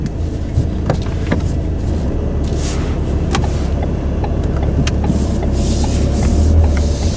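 A car pulls away during a driving lesson, giving a steady interior rumble of engine and road noise with faint clicks and rattles, swelling slightly toward the end.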